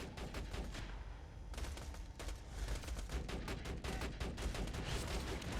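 Rapid automatic gunfire from an auto turret shooting at enemies in Borderlands 2, dense bursts of shots crackling almost continuously, loud and close, with no voices.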